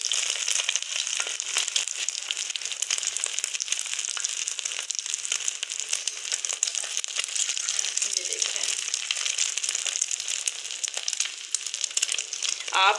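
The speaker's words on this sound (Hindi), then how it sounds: "मैं तवे में डाल रही हूँ" Cabbage tikkis sizzle and crackle on a hot tawa, a dense, close frying crackle that runs steadily throughout with small bursts, and no one speaks.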